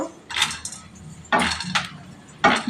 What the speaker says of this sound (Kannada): ನೋಡಿ, ಧನಿಯಾ ಹಾಕ್ತಾ ಇದ್ದೀನಿ ಫ್ರೈಗೆ, ಕಾಳು ಮೆಣಸು,